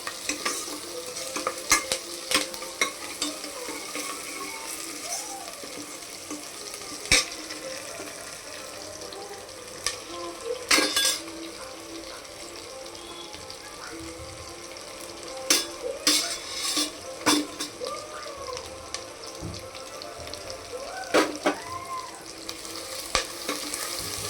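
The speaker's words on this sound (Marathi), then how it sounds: "मसाल्याला मस्त फ्राय होऊन देऊ" Spice paste sizzling and frying in a pan, with repeated stirring scrapes and clinks of a spoon throughout.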